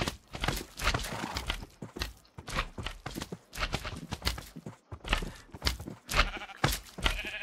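Sheep bleating in a superflat video game world, a run of repeated short bleats in quick bursts with brief gaps, close and moderately loud, with faint footstep-like clopping underneath.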